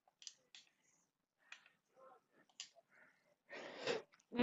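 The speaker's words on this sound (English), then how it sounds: "Sorry for the sneeze." A single sharp, breathy sneeze bursts out near the end, after a few faint clicks and quiet breaths in an otherwise hushed room.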